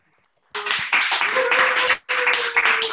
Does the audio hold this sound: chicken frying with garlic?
no